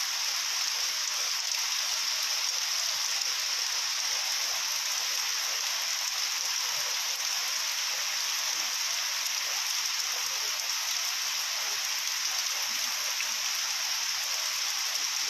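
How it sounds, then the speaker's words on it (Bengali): Heavy rain pours down steadily on an open courtyard in Baharampur, a dense, unbroken hiss of close drops that holds at the same loudness throughout, with no voices. "দেখতেই পাচ্ছেন বৃষ্টির গতিবেগ, কতটা বৃষ্টি হচ্ছে"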